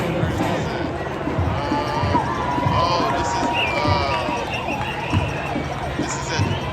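Large crowd at a street protest in Minneapolis, a dense continuous murmur of many voices with scattered shouts and footsteps, steady and fairly loud throughout.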